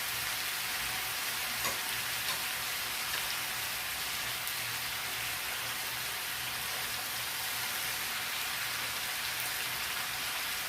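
Webfoot octopus (jjukkumi) fries in a pan, giving a soft, even, continuous sizzle like light rain, with a faint knock or two and no voices.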